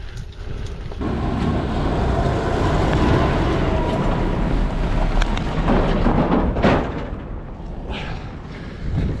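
A tractor's loud, steady engine rumble runs throughout, with a heavy low drone and some clanking near the end, no talking.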